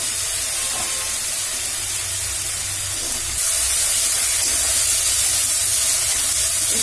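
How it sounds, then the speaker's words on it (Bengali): Masala with slit green chillies frying for katla fish kalia gives off a steady loud hiss and sizzle, which grows slightly louder halfway through and continues without any speaking. "একটু ভালো করে ভেজে নেওয়া হলো।"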